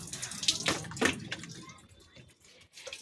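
Water splashing and pouring over a young child having a bath, with a few sharp splashes at the start and trickling drips fading afterward, close by.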